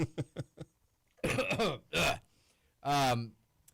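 Several sharp coughs close to the mic, a quick series at first and then heavier, drawn-out hacking fits separated by brief pauses.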